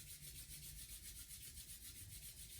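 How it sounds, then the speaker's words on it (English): Steady, soft back-and-forth rubbing of palms pressed together during a prenatal yoga session for the shoulders and wrists, a continuous low swishing friction with no talking. "Rub your palms a little bit back and forth, back and forth, back and forth."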